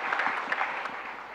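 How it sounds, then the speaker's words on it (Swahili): A crowd claps for a gentleman at an affordable housing bill signing event, a dense steady patter of applause heard at a distance, brief and even. "tumpigie huyu muungwana makofi jameni"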